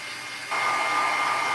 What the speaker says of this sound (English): I'm just going to use my heat gun and dry this ink real quick before I stamp on it